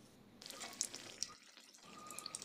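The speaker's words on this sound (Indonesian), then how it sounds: "Kita angkat dan kita tiriskan dan lanjut untuk menggoreng." Bakwan sayur, Indonesian vegetable fritters, frying in hot oil over medium heat, giving a steady crackling sizzle with scattered sharp pops and a brief quieter dip midway, no voices.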